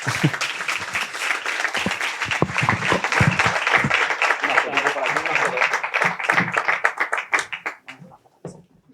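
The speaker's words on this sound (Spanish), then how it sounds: "Aplausos." Audience applause for guests invited up during a live podcasting talk on sustainability, a dense crowd of clapping hands sustained for several seconds before thinning out and fading near the end.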